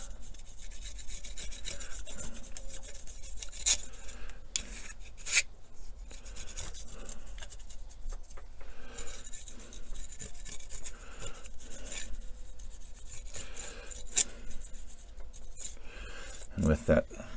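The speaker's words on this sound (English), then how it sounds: "my brush dry, and I'm just gonna kind of scrub" Dry brush scrubbing back and forth over the tops of model railroad logs, a soft close scratchy rasping that comes in uneven strokes, with a few sharper knocks.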